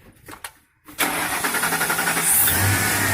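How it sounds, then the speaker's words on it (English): A car with a rough-running engine is cranked over and fires up: a few short bursts of starter cranking, a brief pause, then the engine catches and settles into a loud, steady idle, heard close. "then you have a friend crank the car over"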